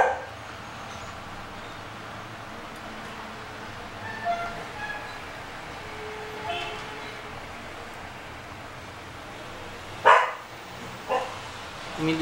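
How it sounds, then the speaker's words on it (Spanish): A pet dog barks in a room, a few sharp yaps standing out late over a steady background hiss, fairly loud and close, with no clear speech. "mil disculpas por los ladridos de mi mascota."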